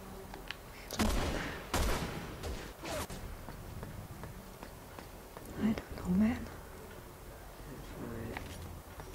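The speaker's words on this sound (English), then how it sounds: "Fun that they're still shooting at me, though." Enemy gunfire crackles in co-op Resident Evil 6 play, with several sharp bursts early and more scattered shots later, under a player's quiet talk.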